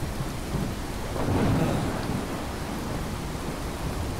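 Steady rain with rolling thunder in a video game, a constant dense hiss with a low rumble swelling briefly in the middle, moderately loud throughout.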